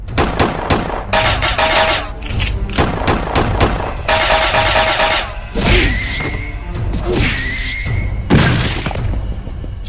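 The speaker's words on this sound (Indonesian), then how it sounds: "Ternyata tembak-tembakan gini ada temponya." Rapid cartoon gunfire, loud bursts of machine-gun rattle and single shots with thumping booms and whistling tones, dense and close throughout.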